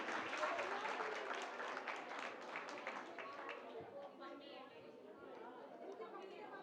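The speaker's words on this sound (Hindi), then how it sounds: "एक बार और जोरदार तालियां बजाएं इनके लिए।" Sustained applause and cheering from an audience at a Jain temple gathering during a quiz, dense clapping that fills the whole stretch and gradually eases, with crowd chatter mixed in.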